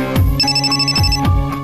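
A phone rings with a bright electronic ringtone, loud and close, repeating its melodic pattern in a steady rhythm.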